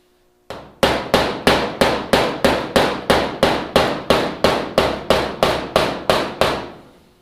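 A rounded-top body hammer taps a 1971 Pontiac GTO sheet-metal panel in a steady run of about fourteen sharp, ringing strikes, close and loud, each decaying quickly, with no talking.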